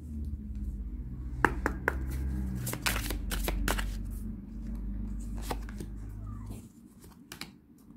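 Angel oracle cards being shuffled by hand close up, with a steady run of quick papery riffles and flutters, then a softer, sparser patch near the end, with no voices.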